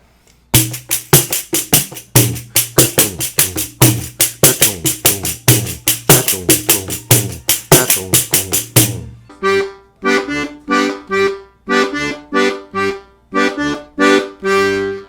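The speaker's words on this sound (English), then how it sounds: "This is a Brazilian percussion instrument called a pandeiro, and the pandeiro can play the Baião pattern" A pandeiro plays a steady, driving syncopated baião groove of slaps and jingles, loud and close, continuing without pause throughout.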